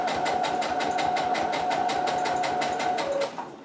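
A sewing machine stitches a cosplay utility belt pouch in a steady, fast, evenly pulsing run, close and loud, then slows and stops near the end.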